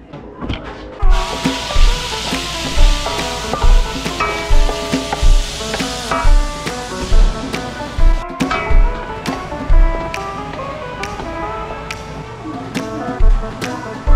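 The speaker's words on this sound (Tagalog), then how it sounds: "magsisimula na akong magluto ng aking pansit canton" Pansit canton noodles with cabbage, garlic, onion and carrots stir-fry in a pan. A loud, steady sizzle runs throughout, punctuated by regular, close clacks and scrapes of a utensil against the pan.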